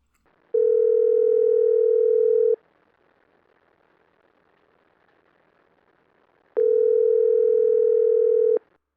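A telephone tone on a recorded police emergency call sounds as two long, steady electronic tone bursts of about two seconds each, separated by a quiet gap of several seconds, with no voices.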